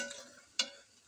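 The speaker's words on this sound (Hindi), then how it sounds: "अब आपने इसको हल्के हाथ से हिलाते रहना है, ज़्यादा तेज़ से चम्मच नहीं चलाना कि चावल टूट जाए" A spoon gently stirs rice into jaggery sugar syrup in a pot, soft scraping with a faint sizzle and one brief sharp clink of the spoon.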